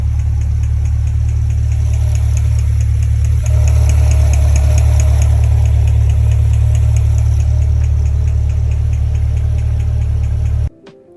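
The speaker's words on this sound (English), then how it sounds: "it almost sounds like the car is misfiring or something" Chevrolet C8 Corvette Stingray idling with a loose spark plug, a loud steady low rumble with an uneven ticking pulse like a misfire, running alone until the engine cuts off abruptly at the end.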